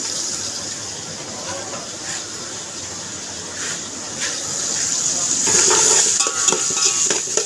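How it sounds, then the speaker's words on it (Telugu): A tempering of onions, curry leaves and tomatoes fries in a pan with a steady sizzle, growing louder toward the end with light clinks of a utensil against the pan. "వేయించిన తాలింపు"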